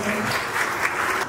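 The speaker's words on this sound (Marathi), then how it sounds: "त्यांच्यासाठी एकदा जोरदार टाळ्या होऊन जाऊया." Audience applause at an award ceremony honoring students at an academy, a dense, steady wash of many hands clapping across the whole short stretch, moderately loud and close.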